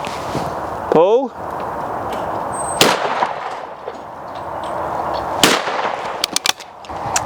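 A Beretta 686 Silver Pigeon over-and-under shotgun is fired at clay targets outdoors, with a few sharp loud bangs separated by pauses and people talking in between.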